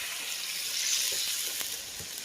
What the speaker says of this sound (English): We got 2 cups of fresh cold water.